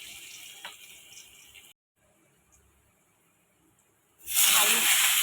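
Crushed garlic hitting hot oil tempered with black cumin seeds, a sudden loud steady sizzle bursting in near the end after quieter kitchen background.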